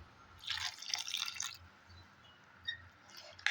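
Water being poured into rice flour batter for panagya, with soft splashing bursts and a few faint drips in a quiet kitchen.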